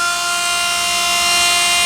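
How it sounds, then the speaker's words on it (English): A Dremel rotary tool spins a small felt polishing wheel against a stone heart pendant, giving a steady, loud high-pitched whine that holds constant without a break throughout. "So I'm using a Dremel with a little felt wheel"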